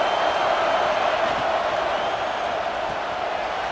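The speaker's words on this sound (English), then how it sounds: "The roar of the crowd trying to fuel this defense to keep them pinned in their own end." A college football stadium crowd in Nebraska roars as it urges the defense on, a broad, steady wash of massed voices held at a constant loud level throughout, heard from within the stands.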